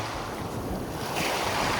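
Sea waves wash onto a beach on a lovely day, a steady close roar of surf that swells near the end, with wind noise over the microphone.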